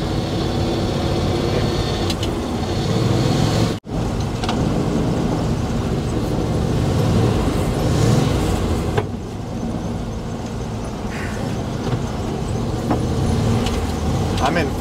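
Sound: 1980 Dodge truck accelerating with slipping clutch

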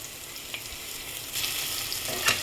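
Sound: ginger garlic paste frying with onions in a pan

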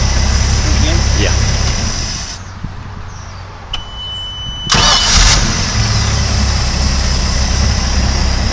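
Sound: Mercruiser 4.3 liter boat engine starting and running

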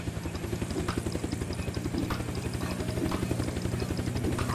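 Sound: helicopter in Unturned video game

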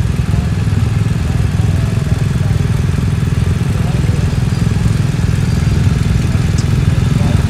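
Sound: BMW R 1250 GS Adventure motorcycle engine revving

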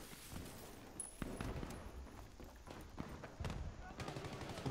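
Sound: shotgun gunfire in video game Battlefield 3

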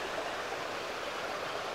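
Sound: flowing stream water

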